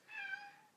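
A house cat gives one quiet, short meow, a rising then falling tonal cry that fades out, heard alone at close range.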